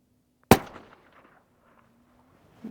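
A single sharp rifle shot from a 25GT firing 134gr Hornady ELD rounds, loud and close, with a brief decaying echo rolling out afterward and a faint steady hum beneath.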